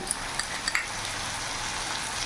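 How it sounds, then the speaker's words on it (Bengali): Potatoes frying in a pan with freshly added ginger-garlic-chilli paste make a steady, close sizzle, with a few small clicks of a utensil touching the pan and no voices. "এবার এখানে আদা রসুন লঙ্কার পেস্ট আমি দিয়ে দিলাম"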